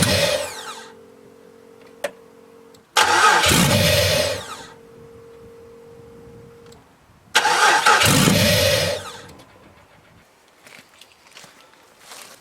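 An LS-swapped Firebird with a 5.3 engine cranks in two long bursts of several seconds each, loud and close, without catching. Quieter pauses with faint clicks and a steady hum fall between the bursts.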